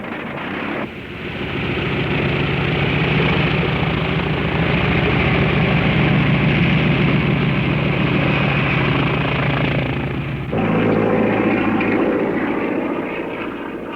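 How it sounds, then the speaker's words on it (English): A Navy carrier fighter airplane flying in an impromptu air show demonstration, its propeller engine droning loud and steady for most of the clip before cutting sharply to a different, lower engine tone near the end. "Lindbergh climbs into the cockpit of a current Navy carrier fighter."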